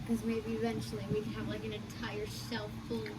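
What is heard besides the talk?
None of the usual background noises is heard.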